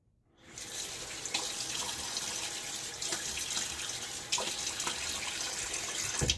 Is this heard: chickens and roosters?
no